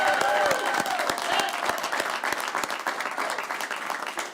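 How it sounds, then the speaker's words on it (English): A crowd at a signing day event applauds steadily, with sharp individual claps standing out and a few whoops over the top, the clapping thinning slightly toward the end. "Big round of applause."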